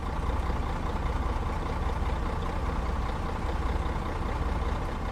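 Loud, steady rumble of a heavy school bus engine idling nearby, with a constant low throb and no voices.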